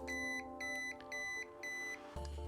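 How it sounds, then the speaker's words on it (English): An ARRMA Typhon GromBLX buggy emits three clear electronic beeps in a steady rhythm while its gyro setting is changed, each beep a close, bright tone, followed by a lower buzzing tone at the end. "If I push it again, you can see 3 beeps"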